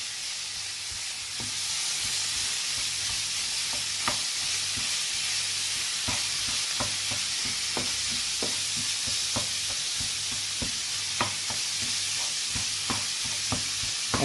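Minced meat with salt and ginger garlic paste is worked in a pan over a constant sizzling hiss, with regular scraping and tapping strokes of a utensil, steady and close.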